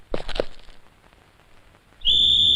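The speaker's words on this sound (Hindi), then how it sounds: "मेरे बाप ने सीटी बजा दी है।" A shrill whistle is blown near the end as one loud, sustained pitched blast, following a few soft thuds and a quiet pause.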